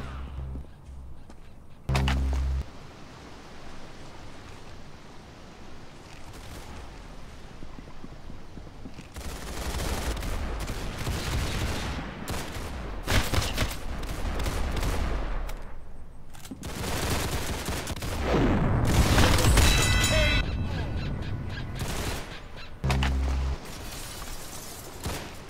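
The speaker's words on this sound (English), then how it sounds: "Very good shooting." Gunfire in the Roblox shooter Arsenal: bursts of rapid shots and impacts, mostly in dense stretches with a few isolated loud blasts, close and loud with no talking.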